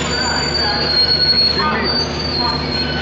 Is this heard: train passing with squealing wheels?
yes